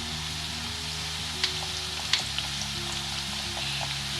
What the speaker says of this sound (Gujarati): અહીંયા આટલી રતાળુ પૂરી આપણે તેલમાં પાડી લીધી છે.